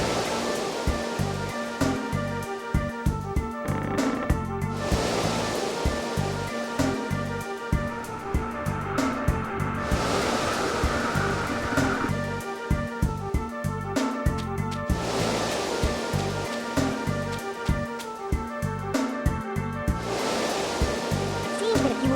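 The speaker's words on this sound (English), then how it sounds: "the water from the bridge gets drained" Water drains off a bridge in the Tomba! 2 video game, a steady loud rushing roar like a waterfall that runs the whole length with rhythmic game music and thumping percussion playing over it.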